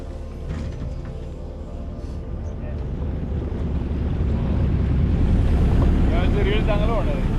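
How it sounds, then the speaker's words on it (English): A boat carries passengers across the water from Bamnoli village in Satara district toward the base of Vasota fort. A low engine rumble mixes with wind buffeting the microphone and grows louder, with faint voices in the background. "take a boat ride to reach the base of Vasota fort"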